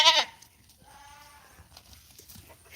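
A Kiko goat, a protective mother nanny, lets out a loud bleat at the very start, then only faint rustling and low background noise follow.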